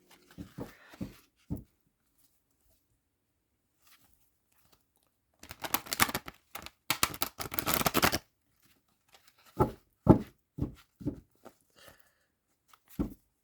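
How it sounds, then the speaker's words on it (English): Two tarot decks riffled together in a quick, crisp burst, with a few soft taps and handling noises before and after, quiet and close. "I think one more shuffle and then we'll cut it"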